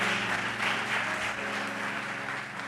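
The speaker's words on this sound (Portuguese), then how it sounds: "Dê um aplauso bem forte ao Senhor Jesus Cristo." A church congregation claps together in a sustained, even wash of applause that stays loud and dense before easing off slightly at the end. No speech is heard over it.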